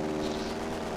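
Airplane engine in the San Andreas Multiplayer (SAMP) video game, a steady, dense propeller drone with a buzzing tonal hum, loud and continuous with no pauses.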